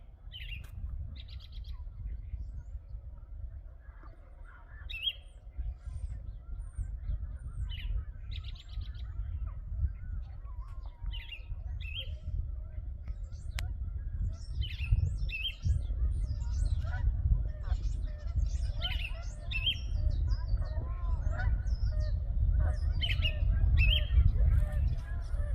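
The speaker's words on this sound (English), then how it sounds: "just let you listen to the birds." Birds call and chirp at sunset in a spring garden, with bright repeated tweets scattered throughout over a steady low outdoor rumble.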